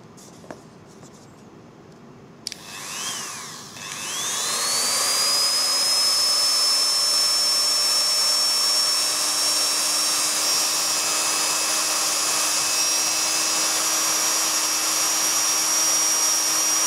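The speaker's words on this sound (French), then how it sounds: "Donc avec le Dremel, on y va très très lentement." A Dremel rotary tool with a felt wheel and polishing paste works on a Glock pistol. After a few faint clicks the motor spins up and holds a loud, steady high-pitched whine.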